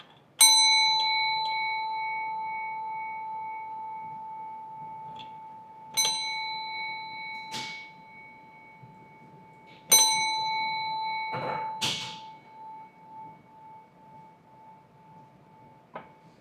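A church bell rung by hand strikes three times, each stroke loud and close with a long, slowly fading ring, plus a few softer knocks between strikes.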